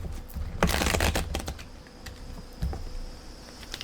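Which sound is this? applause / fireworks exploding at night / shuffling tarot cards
shuffling tarot cards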